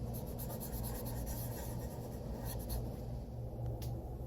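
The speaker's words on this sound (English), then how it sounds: "I'll add some sort of details with the gel pens or something." Gel pen tip scratching across a coloring book page in a steady, soft, continuous drawing rasp, close and quiet with no talking.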